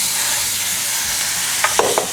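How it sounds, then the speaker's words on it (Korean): Marinated pork fries on medium heat in a pan oiled with two tablespoons of cooking oil, giving a loud, steady sizzle with a few short scraping stirs near the end. "그래서 계속 뒤집어가며 볶아주셔야 해요"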